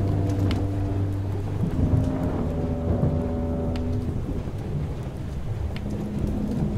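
Thunderstorm in the video game FAR: Changing Tides, a steady downpour of rain with low rumbling thunder and deep droning tones rolling underneath, continuous and moderately loud.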